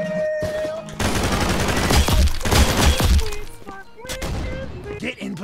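Gunfire in the Roblox shooter Counter Blox: dense rapid bursts of shots and impacts for several seconds, followed by a few sparser shots, with voices speaking intermittently around them.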